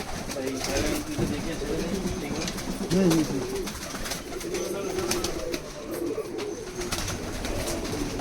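Domestic giribaz pigeons coo softly and intermittently under a steady background hiss, with occasional voices nearby.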